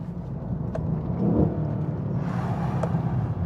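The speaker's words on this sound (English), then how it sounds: "Oh, the downshift sounds." A 2016 Mercedes-AMG E63 S engine rumbles through a downshift, with a swell in revs and a crackle partway through, heard from inside the car.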